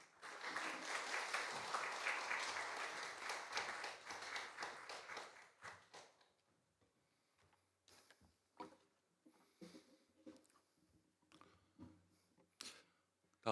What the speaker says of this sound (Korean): 이 시간 장로님 나오실 때에 박수 보내주시면 감사하겠습니다